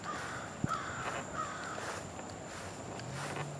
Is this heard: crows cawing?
yes